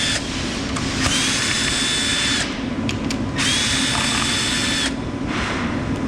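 Power drill driving screws out of the side of a wooden tote storage rack, with two long, loud whirring runs separated by a short stop and brief taps.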